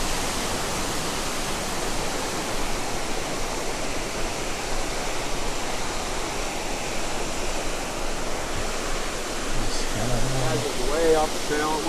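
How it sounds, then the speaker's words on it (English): Steady, full-bodied rush of clear water tumbling down along the Hanging Lake Trail, a broad continuous roar heard close up with no break, a voice briefly audible over it near the end. "this right here is where all the water's rushing down that I looked at earlier"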